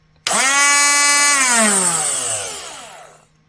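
A Parkside 12V cordless angle grinder, model PWSA 12 C2, starts abruptly and runs at full speed right away with a loud, close, steady high whine, then winds down and fades over its last second.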